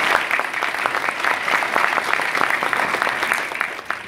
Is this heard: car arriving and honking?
no